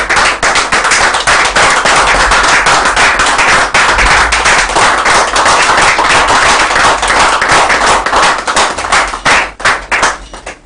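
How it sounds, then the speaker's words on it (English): Audience at a discussion event on women salt miners gives a loud, dense round of applause, sharp claps continuing without pause and close to the microphone. "Round of applause for Reverend Sophia Kicpher."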